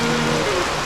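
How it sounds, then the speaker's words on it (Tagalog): Heavy rain pours in a dense, loud hiss, with a low hum briefly underneath. "Lakas pa rin ang ulan."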